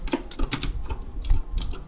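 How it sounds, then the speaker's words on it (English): Rapid computer keyboard typing, a busy clatter of clicking keys close by, running continuously with no talking. "All you can hear is Light's fucking keyboard in the background"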